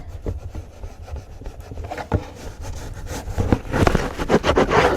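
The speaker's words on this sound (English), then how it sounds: "And then we're gonna burnish against our hand." Folded card paper burnished by rubbing it against a hand, a close, steady dry rubbing and scraping that swells into louder, denser strokes toward the end.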